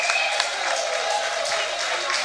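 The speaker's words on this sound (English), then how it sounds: "Stand up and give him a round of applause" A rally audience breaks into sustained applause and cheering at a political event in St. Lucia, a dense, even wash of clapping that holds steady throughout at moderate loudness.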